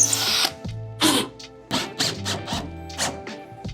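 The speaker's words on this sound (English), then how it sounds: "you're gonna be drilling close to the glass" Power drill driving into a wooden sauna bench near glass, several short whirring bursts that start and stop, with a grinding bite into the wood, loud and close with no speech.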